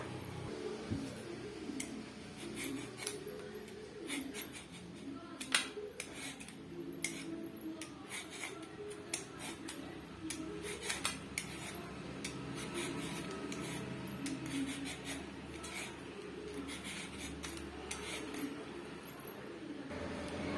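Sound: peeling a raw mango

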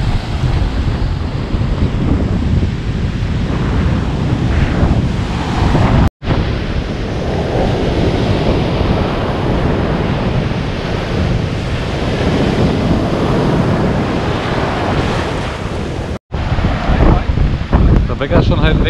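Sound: ocean waves at Fort Lauderdale Beach, Florida

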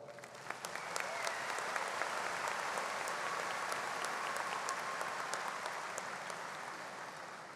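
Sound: audience applause

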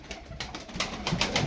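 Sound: tumbler pigeons cooing

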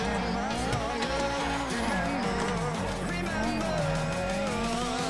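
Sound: BMW M4 car engine and exhaust in video game GTA 5

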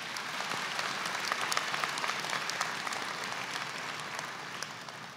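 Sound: audience applause for graduates at a ceremony

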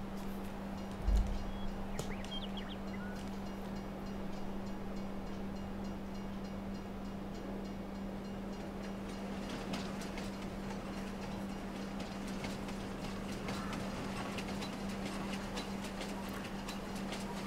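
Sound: train passing in video game Farming Simulator 22

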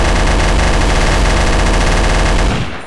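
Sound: gunfire in video game Trouble in Terrorist Town

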